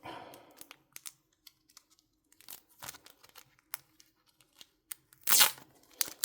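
Tearing open an eBay mail package of trading cards: scattered crinkles and rips of paper and plastic packaging, then one long loud tear near the end, close by.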